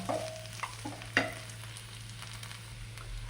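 Onions sauté in a hot pan with a light, continuous sizzle, broken by a few sharp clinks of a spoon stirring against the pan, close and fairly quiet.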